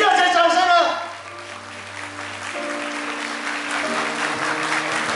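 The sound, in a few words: wedding guests applauding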